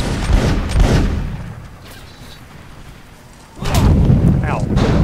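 Musket volleys in Mount and Blade: Napoleonic Wars, with a burst of crackling shots near the start, a quieter lull, then another loud ragged volley near the end, voices mixed in.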